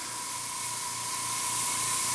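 A Badger Patriot 105 airbrush with a large needle and nozzle sprays a fine line, giving a continuous close airy hiss that holds steady and swells slightly toward the end, with a faint tonal whine beneath it.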